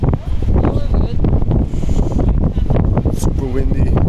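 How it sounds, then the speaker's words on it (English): Strong wind roars continuously against the microphone on a sandy, wet shore at Tarifa, a loud, steady rush with gusty surges, with people talking faintly underneath. "Super windy, super sandy."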